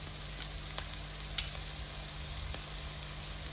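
Mushroom curry sautéing in a pan, a faint steady sizzle with a few soft stirring clicks, no voices.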